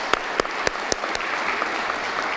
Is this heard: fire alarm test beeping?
no